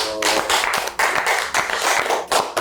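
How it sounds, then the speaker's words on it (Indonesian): A studio audience at an Indonesian talk show claps in several loud, uneven bursts that swell and drop back over a few seconds, close to the microphone. "Tepuk tangan semuanya"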